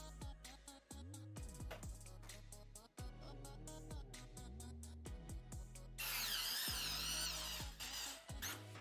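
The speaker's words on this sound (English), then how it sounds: "Just screwing them in." A magnetic screwdriver drives screws into a PC case in repeated whirring, ratcheting pulses with short squeaky pitch sweeps, close and faint, ending in a sustained hissy stretch.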